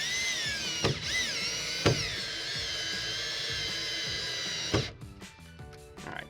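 Power drill whirring as it drives screws through shims under an alcove bathtub during installation, a sustained whine with a few sharp clicks and thumps, stopping near the end with some clattering.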